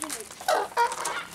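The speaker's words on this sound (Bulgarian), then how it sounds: "Патици, патици, я виж онази патица." Ducks at a zoo in Devene give a few short, nasal quacking calls, with two louder bursts close by over a busy outdoor background.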